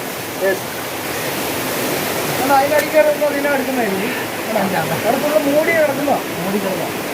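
Ezharakkund waterfall and its stream make a steady broadband rush of falling, flowing water that persists throughout, with people talking over it outdoors.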